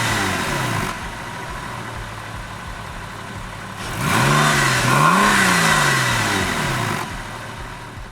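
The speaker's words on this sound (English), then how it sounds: "to cap off the video overall, the sound of the exhaust" A Porsche 911 996 Carrera 2 exhaust idles with a steady low burble, then revs hard twice in quick succession, the engine note rising and falling loudly up close before settling back to idle.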